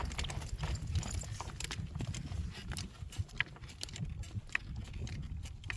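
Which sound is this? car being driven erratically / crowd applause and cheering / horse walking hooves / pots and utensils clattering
horse walking hooves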